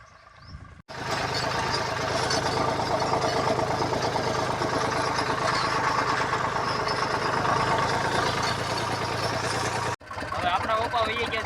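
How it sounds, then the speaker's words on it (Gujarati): Tractor engine running steadily at a constant loud level for about nine seconds, with a low diesel rumble, starting and stopping abruptly as if close by. "આપણા પપ્પા હાકે છે ટ્રેક્ટર અત્યારે"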